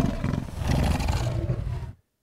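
A processed animal roar plays through the Krotos Reformer plugin, sounding as one growling, lion-like roar with rough, textured pulses. It is loud and close, then stops abruptly into silence.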